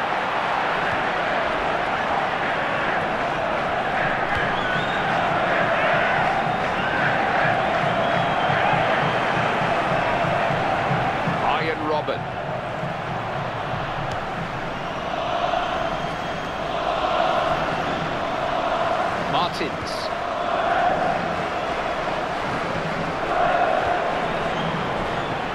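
Stadium crowd noise in the FIFA 14 video game during a Netherlands versus Costa Rica World Cup quarter-final, a dense, steady roar of cheering and chanting that swells slightly in places and carries on throughout.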